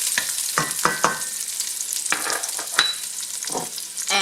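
Garlic sautés in a hot pan for egg rolls, a dense sizzle broken by irregular stirring scrapes and clatters, close and fairly loud.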